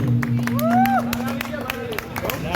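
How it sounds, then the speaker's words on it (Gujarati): A gathered crowd claps for an elderly grandfather, scattered sharp claps ringing out amid chatter and voices from those nearby. "ભાઈ દાદા માટે જોરદાર તાળી દીધો"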